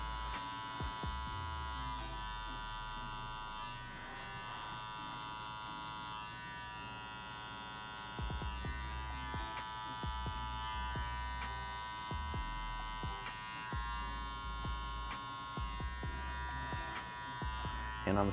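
An electric hair clipper hums continuously close by as it blends a fade without guards, its buzz shifting slightly in pitch as the lever is adjusted and the blades move through hair.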